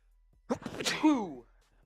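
A single loud sneeze bursts out close by, sharp at the start and trailing off into a brief voiced tail, then quiet.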